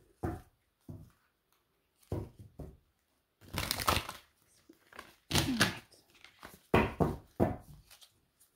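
An oracle card deck is shuffled close by in several short bursts of riffling and sliding cards separated by pauses, with no talking.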